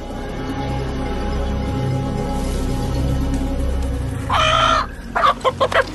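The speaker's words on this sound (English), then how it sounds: "Chicken noises." A chicken gives a short squawk and then a quick series of sharp clucks near the end, loud and close, over a low steady background hum.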